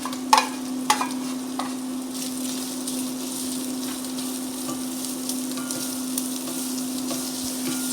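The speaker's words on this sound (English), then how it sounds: "the fat starts to render out, and now it's time to put in our onions" Onions fry in rendered fat in a pan with a soft, continuous sizzle and crackle, a few sharper pops near the start, and a steady faint hum underneath.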